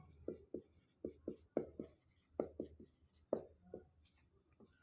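Handwriting notes with a pen or marker, heard as a quiet run of separate scratchy strokes in an uneven rhythm, close up, with a faint steady hum underneath.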